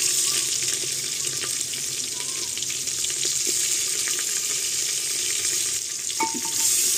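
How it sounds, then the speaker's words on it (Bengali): Chopped onion frying in oil in a clay cooking pot with bay leaf, dried chilli, whole spices and cumin, a steady close sizzle with faint stirring clinks, no voices. "পেঁয়াজ কুচিটা একটু ভেজে নেব"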